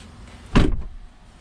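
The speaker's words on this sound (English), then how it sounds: "The sound of the door is," A BMW iX car door made of carbon fiber reinforced plastic shuts with a single short, dull thump, heard close by against quiet background.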